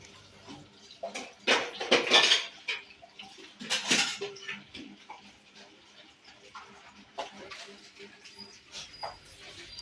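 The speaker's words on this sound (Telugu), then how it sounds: "గిన్నెలు అయితే తోముతుంది" Dishes are scrubbed in short, scratchy bursts with some light clatter, loudest early on, then fading to quieter rubbing sounds.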